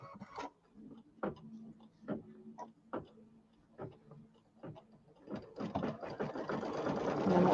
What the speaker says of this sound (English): So I'm going to flip this one over, and then it's going to sew along here.